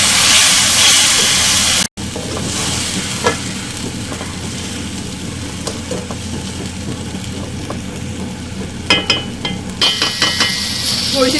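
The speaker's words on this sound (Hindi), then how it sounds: "मिक्सचर डाल के हम भिंडी के साथ अच्छे से भूनेंगे।" Okra fries with a masala mixture in a pan, a steady loud sizzle running throughout while a spatula scrapes and stirs, with a brief dropout near the start and sharper clinks of the utensil toward the end.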